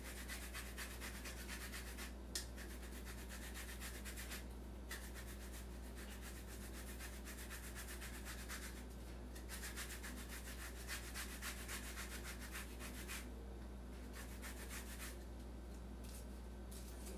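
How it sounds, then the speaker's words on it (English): Orange zest grated off washed orange peel on the small holes of a grater, a soft continuous scraping rasp with brief pauses, quiet and fairly close, no voices. "Always helps to have the zest of an orange, gives more flavor."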